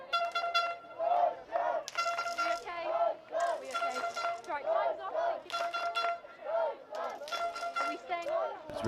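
A German crowd cheers on its team at an under-18 rugby sevens match, rising in waves of shouting and chanting with whistles and horn-like toots, while a commentator talks over the noise.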